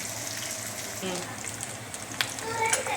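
Dried red chillies, small shallots and fresh curry leaves fry in hot oil for a tamarind curry, a soft steady sizzle with scattered crackles and stirring clinks, quiet and close.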